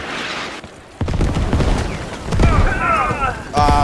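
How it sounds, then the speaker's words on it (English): Mortar shells burst in the Squad Star Wars mod on Tatooine, heavy booming impacts rolling close by amid chaotic battle noise, with a voice briefly heard. "I think your mortars are a little short"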